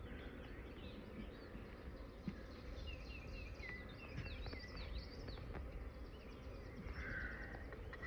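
Honey bees buzz around an open hive in a low, steady drone, faint and continuous, with a few scattered chirps and higher buzzing passes drifting above it.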